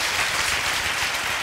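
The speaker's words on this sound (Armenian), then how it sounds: "եկեք ծափահարենք նրանք։" An audience applauds during a televised singing competition duet round, a dense, loud and steady wash of many hands clapping with no voices over it.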